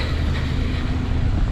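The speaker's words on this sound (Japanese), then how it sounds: "電車の音はね、しっかり聞こえてるので" A steady low rumble of a Keio Inokashira Line train rolling past nearby, continuous and fairly loud, with a broad hum and rattle and no speech.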